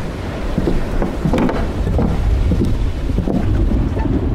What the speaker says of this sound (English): Yeah, storms rolling in.